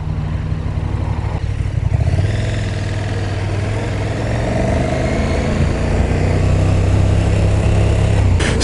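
A 2020 KTM Super Duke R motorcycle engine with stock exhaust runs steadily with a low, muffled rumble, holding a fairly constant idle-like drone throughout with slight changes in pitch.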